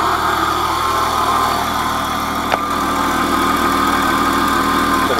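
A Jeep Cherokee XJ with the 4.0 engine and automatic transmission idling after a flexplate bolt repair, a loud steady mechanical drone with one brief click midway.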